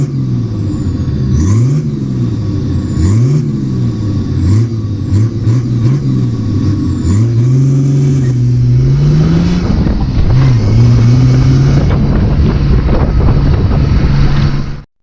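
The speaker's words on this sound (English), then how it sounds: "There's nothing that beats the diesel 6-cylinder, turbocharged 6-cylinder diesel." An old 4WD truck's turbocharged six-cylinder diesel, heard close and loud as it revs up and drops back through repeated gear changes, then settles into a steady rumble under wind noise.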